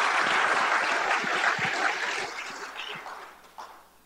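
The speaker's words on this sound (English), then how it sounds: "So welcome our panel, please, with a round of applause." Audience at a sports law symposium applauding a panel as it is welcomed, dense steady clapping that fills the room and gradually thins out toward the end.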